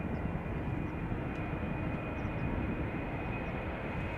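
A KLM Embraer 190 jet, 15 years old, bound for Prague at Schiphol Airport, gives a steady broadband engine roar with a thin high whine running throughout, even in level and close, with no voices.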